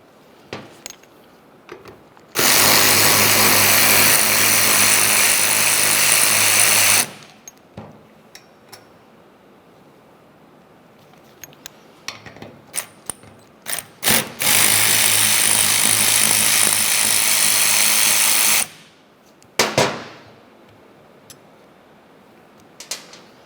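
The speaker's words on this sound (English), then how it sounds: "you're going to find 2 more T30 screws. Go ahead and remove them" A power driver backs out T30 Torx screws from the steering column of a 2001–2005 Ford Explorer Sport Trac in two loud, sustained whirring bursts of several seconds each, separated by scattered clicks and clanks of handling.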